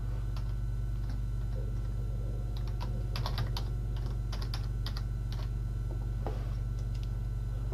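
Someone types on a computer keyboard while writing test code, the keys clicking in short irregular bursts, quiet and close over a steady background hum.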